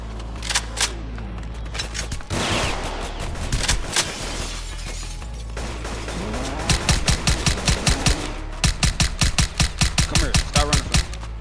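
Suppressed ARP gunfire in a shooting video game set in the South Bronx, rapid bursts of muffled shots in rhythmic volleys, loud and close over dense game noise, ending in a fast steady string of rounds.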